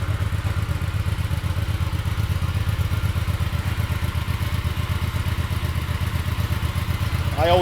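Fuel-injected 2012 Hyosung GV250 motorcycle engine idling, a steady low throbbing putter with light mechanical clatter, close and constant throughout.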